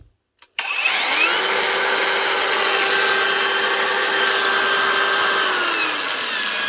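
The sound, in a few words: Mellif cordless brushless grinder running, Makita-battery compatible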